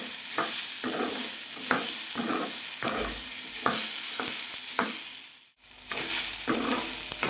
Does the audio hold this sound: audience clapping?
no